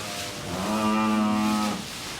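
A weaned dairy heifer housed in a shed for winter lets out one loud, drawn-out moo that swells and fades within a couple of seconds over quiet background noise.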